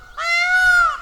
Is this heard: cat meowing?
no